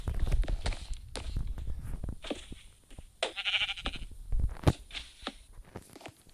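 Sheep in a block-building video game bleat several times amid steady footstep sounds, moderately loud and close, with no one talking.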